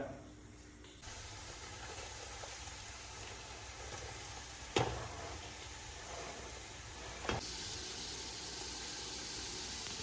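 Low, even sizzle of onions frying in hot coconut oil, with two brief sharp clinks partway through.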